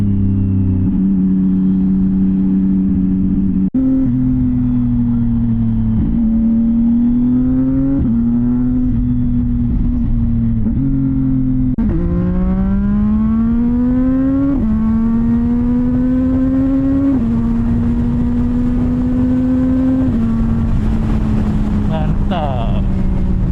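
A CFMOTO 675NK SR motorcycle fitted with a titanium full-system exhaust revs loudly and close up, its engine climbing and falling through repeated rising blips and sustained higher-pitched holds over a steady rumbling idle.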